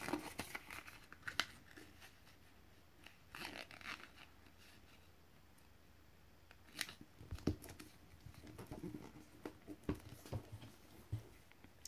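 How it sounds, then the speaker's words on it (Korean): Sheets of glittery colored paper are folded and creased for an origami mini car, giving quiet crinkling, rustling and sharp scraping creases in irregular bursts, close up and soft. "옆으로 접어주세요."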